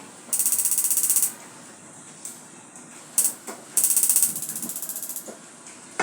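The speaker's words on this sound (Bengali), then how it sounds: "এখন আমি চুলাটা জ্বালিয়ে দেবো" A gas stove igniter clicks in rapid ratcheting bursts, with a hiss of gas between them, close and fairly loud.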